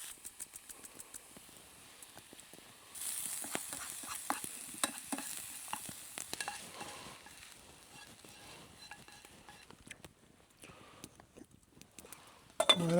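Potatoes, onions and carrots cooking into a stew over an outdoor fire in the woods, with a steady soft sizzle and scattered stirring clinks, louder from the third second onward and a sharp knock near the end.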